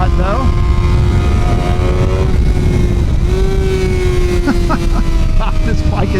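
Suzuki GSX-R 600 sport motorcycle entering an S-turn, a loud continuous engine roar with shifting pitch as it rides, dominated by close engine and wind noise.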